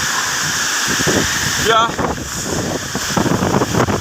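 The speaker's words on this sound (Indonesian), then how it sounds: "hujan sangat deras sekali disertai angin kencang yang dari utara menuju arah selatan" Heavy rain with a strong north-to-south wind pours steadily in Cileunyi, with a constant loud roar and gusty buffeting on the microphone while someone speaks over it.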